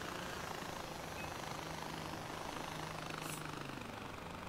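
A mini helicopter flies in the video game Far Cry 4, its rotor and engine giving a steady, dense whirring drone that holds constant and fairly loud with no talk over it.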